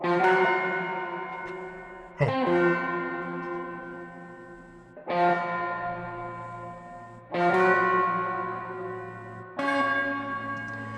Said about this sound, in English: the bells were triggered by the loop